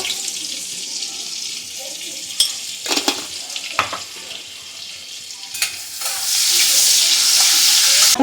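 Whole spices and cumin sizzle in butter in a home kitchen pan, a steady hiss broken by stirring clatters and scrapes, with the frying growing louder and denser near the end.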